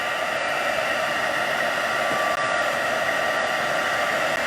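A craft heat tool blows hot air onto paper flowers, a steady close hissing whir that holds at an even level from start to finish with no talking.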